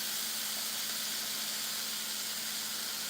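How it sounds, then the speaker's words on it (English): Bacon strips sizzling in a pot, a steady soft hiss that holds evenly throughout at low level, with no talking over it. "We should hear a little bit of a sizzle here."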